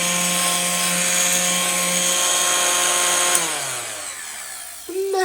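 A vintage Apex 617 hand-held vacuum cleaner, missing its belt, whines loudly up close, then is switched off and its motor pitch drops and winds down, followed by a brief clunk.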